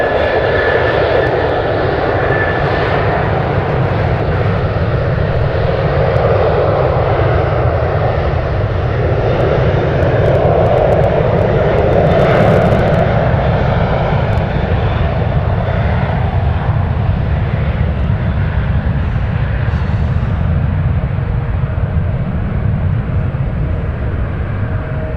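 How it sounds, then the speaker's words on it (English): An Alaska Airlines jet taking off at San Francisco airport gives a loud, sustained engine roar that holds steady and close for the whole stretch, with a broad rumbling tone and no voices over it. "And there it is, cleared for takeoff. 7-3 cleared for takeoff."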